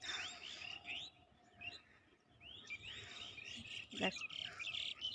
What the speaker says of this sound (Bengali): পাখিগুলো ডাকাডাকি করে